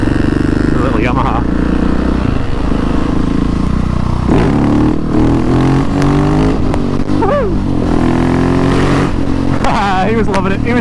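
A small Yamaha motorcycle's loud exhaust roars inside a multistorey car park, holding a steady reverberant drone with several revs and pitch swoops over about eleven seconds.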